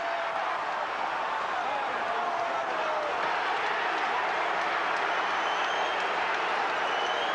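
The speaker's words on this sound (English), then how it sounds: "there's some booing going on" Arena crowd at a Mike Tyson versus Carl Williams heavyweight boxing bout reacts after a first-round stoppage. It is a dense, steady roar of voices, with booing woven through the continuous noise and no distinct pauses.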